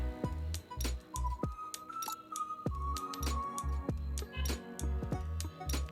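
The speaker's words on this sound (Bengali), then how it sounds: "আবার নেড়ে দিচ্ছি।" A spoon stirs hog plum (amra) chutney in a cooking pot, knocking out a quick run of sharp metallic clinks and taps at an uneven rhythm, fairly faint and close.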